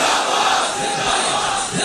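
A large crowd at a religious speech gathering shouts a slogan together in loud, rough unison, a dense wall of voices that swells and dips in rhythmic waves.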